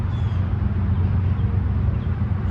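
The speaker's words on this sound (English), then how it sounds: "That's a train." A train goes by outdoors near a cemetery, giving a steady loud low rumble and roar that holds for the whole stretch, with no voices over it.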